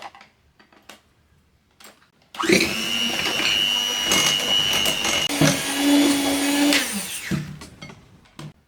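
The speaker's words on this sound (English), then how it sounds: "We'll start by creaming the butter and the icing sugar." An electric mixer creaming butter with icing sugar for no-bake Czech beehive cookies starts up after a few quiet knocks, then whirs loudly and steadily for several seconds with a shifting motor pitch before winding down.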